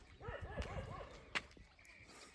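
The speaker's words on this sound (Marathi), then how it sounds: "कुत्र काय अजून बोकायचं कमी व्हाय नाही बाबा बोकतच आहे" A dog barks in a quick run of four or five short, high yips, fairly close, on a farm in the morning, followed by a sharp knock and faint background noise.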